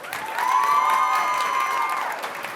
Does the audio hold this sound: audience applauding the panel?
yes